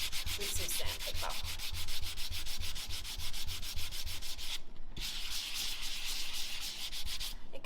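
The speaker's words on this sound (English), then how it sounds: "So you just give it a bit of sand with some sandpaper." Sandpaper rubbed back and forth over a surface in steady, rapid strokes, close and continuous, with two brief pauses.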